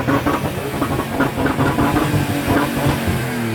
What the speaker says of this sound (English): I show up and these two are here having a freaking rev off.